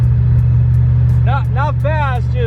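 A car with a stock 5.3 engine, rolling in fifth gear on a dark street, gives a loud, steady low engine drone close by, and someone talks over it partway through.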